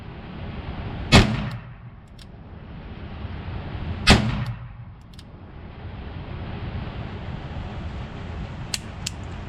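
Two sharp, loud gunshots about three seconds apart from a High Standard Double Nine .22 LR revolver, each followed by a short ringing decay, with faint metallic clicks afterward.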